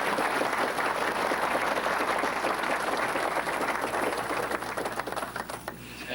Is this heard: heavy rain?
no